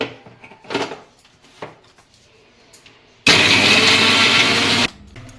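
A blender grinds radish with salt into a paste, starting abruptly and running loud and steady for about a second and a half before cutting off, preceded by faint clinks and handling noises.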